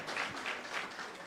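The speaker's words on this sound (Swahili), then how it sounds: "Makofi ya 150." Applause at a football club luncheon at Bomas, a short burst of crowd clapping heard at moderate distance, steady and rolling with slight swells.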